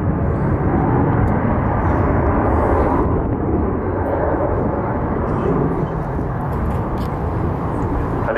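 A large bomber flies over the RIAT 2015 air show with a loud, continuous broadband jet roar that fills the whole stretch, steady and near, with a commentator's voice partly audible beneath the engine noise.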